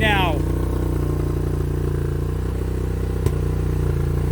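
A 2003 Kawasaki Bayou 250 ATV engine running on half choke, idling loud and close with a steady low putter, one sharp click partway through and a brief whistle-like squeal at the very start.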